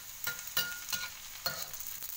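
Garlic fries in a pan with a steady sizzle while a utensil scrapes and stirs it in several sharp strokes, close and fairly loud, with no talking.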